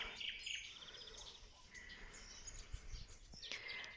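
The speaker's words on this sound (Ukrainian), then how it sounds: "послухати пташок, подивитися" Small birds chirp and sing in a rural Ukrainian yard on a quiet evening, scattered high calls coming and going at a moderate distance over a faint outdoor hush, with no one talking.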